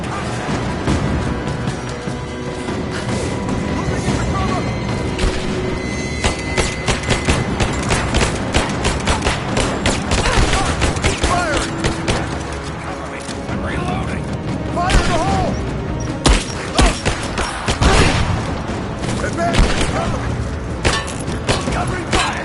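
Loud, sustained gunfire in a Rise of the Tomb Raider firefight, with bursts and booming impacts crowding together and voices shouting over the din.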